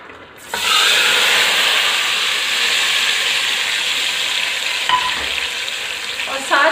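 A loud, hissing sizzle erupts suddenly and holds steady as hot cumin tempering is poured into chickpeas, with a brief rattle of stirring near the end.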